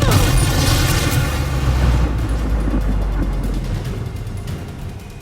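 A Confringo spell explodes in the video game Hogwarts Legacy, a loud deep boom with crackling debris that slowly fades over several seconds.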